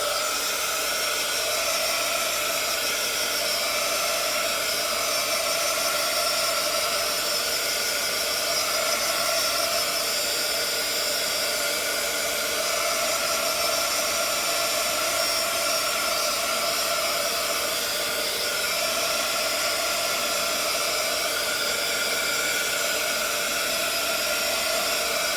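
A heat tool or dryer blows over distress ink in one steady, loud, continuous airy roar that lasts the whole time, close and without talking.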